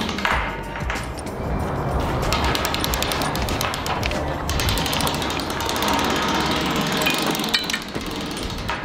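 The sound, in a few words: ratcheting chain being wrapped around pipe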